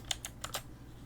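Four quick keystrokes tap on a computer keyboard in a short burst, crisp clicks close by with no voices.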